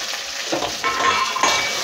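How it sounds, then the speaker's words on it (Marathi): Okra sautés in hot oil with a reddened garlic tempering, a close, steady sizzle with soft stirring swells, brief and without any talk. "छान असे परतून घ्यायचे तेलामध्ये लसणाच्या फोडणीमध्ये।"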